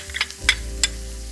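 Minced garlic drops into hot oil in a wok for a tofu and pork sauce and bursts into a loud sizzle, with a couple of sharp spatters over the settling crackle.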